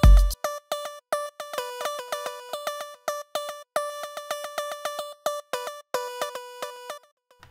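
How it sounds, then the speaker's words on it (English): Plucky synth lead: short, bright, staccato notes in a rapid syncopated pattern, each one sharp at the start and quickly decaying, playing alone and close. "I worked on this plucky lead"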